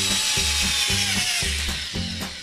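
A small S109G mini RC Apache helicopter with a broken lower rotor whirs loudly and continuously up close, its motor whine pulsing in a rough repeating rhythm, with no talking.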